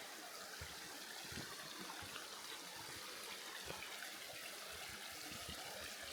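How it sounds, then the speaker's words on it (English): A brook runs beside a forest hiking trail, its water flowing in a steady, soft, continuous rush that is fairly faint and unbroken, with no voices over it. "Now we're hiking right along the brook here."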